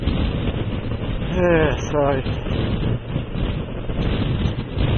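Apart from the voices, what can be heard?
wind blowing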